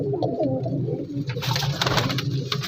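A golden female pigeon coos at a pigeon market in Shahdara, Lahore, with soft repeated calls up close before a wash of market noise and rustling takes over.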